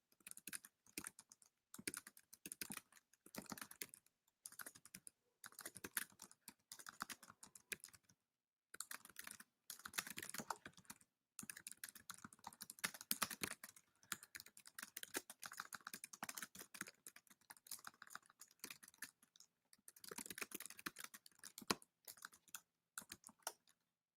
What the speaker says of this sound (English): I'm typing mine in right now